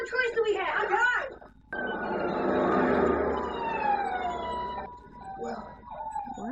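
Ambulance and fire truck sirens wailing with sweeping rising and falling tones, loud and sustained in the middle, with voices talking around them.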